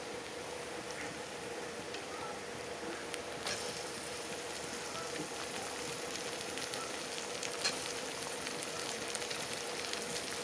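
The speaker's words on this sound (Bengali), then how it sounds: "এখন তার মধ্যে আমি অ্যাড করে দেব আমার টমেটো কুচি" Chopped tomato goes into softened onions in a pan while cooking chana dal, giving a steady, even sizzling hiss that runs throughout at moderate level with no one talking.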